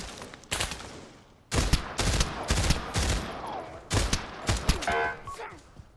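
Gunfire from a gun in the VR game Pavlov, loud and close: a string of sharp shots fired one after another with short gaps between them.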